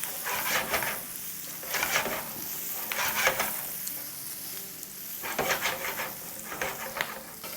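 Fried chicken sausages are stirred in a hot pan, bursts of sizzling and scraping coming in repeated waves over a constant frying hiss, with no voices.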